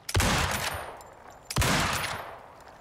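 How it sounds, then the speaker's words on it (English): A semi-automatic lever-action rifle in the survival game Icarus fires, with two loud booming shots about a second and a half apart, each ringing out and decaying slowly before the next. "If it's semi-automatic, I should be able to just fire off 3 shots in succession"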